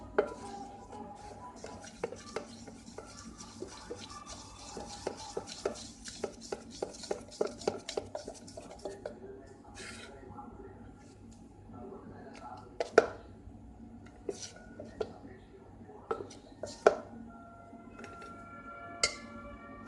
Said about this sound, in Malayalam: ഇനി ഇതിനൊന്ന് നല്ലപോലെ മിക്സ് ചെയ്ത് കൊടുക്കാം